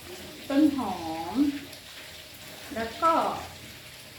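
Herbs and vegetables such as coriander, dill and basil leaves being stirred into fried tilapia in a pan, with soft scraping and a light sizzle beneath a voice.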